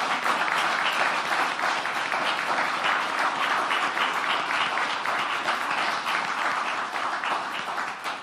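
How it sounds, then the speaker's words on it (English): An audience gives ministry staff a sustained round of applause at a legislative announcement on systemic racism, steady dense clapping that holds throughout before tapering slightly at the end. "A big round of applause for them"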